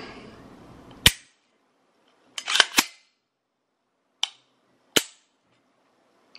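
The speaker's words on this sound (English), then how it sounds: "so let's check that trigger reset" An AR pistol's trigger is dry-fired with no magazine inserted. Several sharp, isolated mechanical clicks ring out close up, separated by silence.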